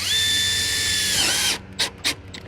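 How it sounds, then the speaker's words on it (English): A right angle drill drives a screw into porch framing, loud steady whine for about a second and a half that winds down, followed by a couple of short bursts as the screw seats. "Not this right angle drill."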